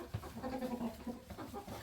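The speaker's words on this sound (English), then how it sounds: "so we got all the chickens in" Chickens clucking softly nearby, a low murmuring of several birds with small rising calls, fairly quiet and continuous.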